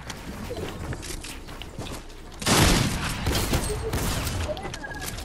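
Gunfire in a video game comes as a burst of rapid shots with a loud impact near the middle, over clattering in-game action and a lingering rumble.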